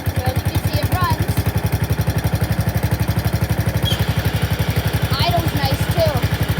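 A custom-cab tractor's engine runs steadily with a loud, even low-frequency pulse throughout, and faint speech-like sounds flit over it.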